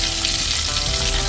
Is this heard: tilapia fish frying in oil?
yes